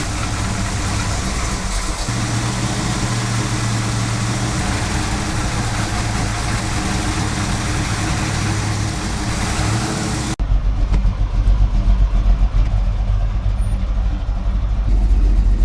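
A car engine idles steadily right after a new carburetor install, a loud continuous low rumble that carries on alone without pause, its tone shifting slightly partway through.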